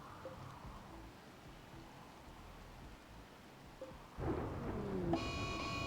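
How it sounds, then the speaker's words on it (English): Steady rain hiss in the video game RimWorld, with a deeper rumble of thunder swelling near the end and a brief brighter tonal sound right at the close. "It's raining."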